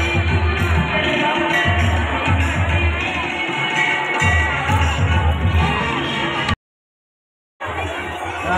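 A large crowd mills at the main gate of a temple fair for Guru Purnima at Pipalkhuta in 2024. Voices blend into a dense, continuous din of chatter and shouts, broken by one brief silent gap.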